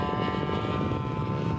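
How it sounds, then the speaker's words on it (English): A scale model AD Skyraider taxiing out gives a steady, loud propeller engine drone with a rough, buzzing hum that holds even throughout, with no voices. "AD Sky Raider. Bill McCauley taxiing out."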